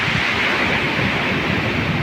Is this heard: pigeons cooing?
no